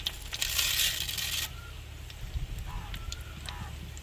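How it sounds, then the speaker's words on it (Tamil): Mustard seeds and urad dal hit hot oil in a pan for a breakfast potato rice dish, giving a loud burst of sizzling crackle that settles into quieter spatters and scattered pops. "எண்ணெய் சூடாடிச்சுங்க கடுகு போட்டுக்கிறோம் உளுந்து போட்டுக்கிறோம்"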